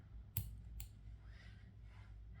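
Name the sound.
scissors cutting crochet yarn tail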